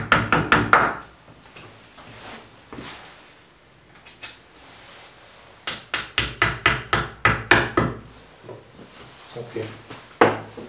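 Plastic wall plugs hammered into holes drilled in a solid brick wall while mounting an Ariston VLS water heater horizontally, with bursts of rapid, loud hammer blows separated by quieter pauses.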